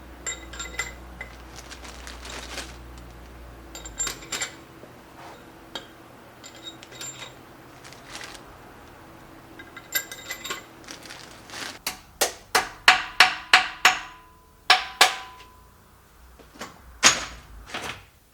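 Metal bolts clinking and rattling as they are dropped into the cylinder head of an LS swap engine, a run of sharp, close metallic ticks and clanks that grows denser toward the end, with no talk.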